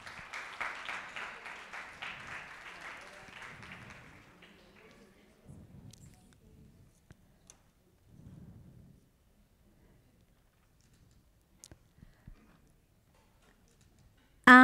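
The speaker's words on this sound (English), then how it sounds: "Give her a huge round of applause." A crowd at a roundtable on energy storage, electric mobility and green hydrogen gives a short burst of applause that fades within a few seconds. Quiet room noise follows, and a voice cuts in at the end.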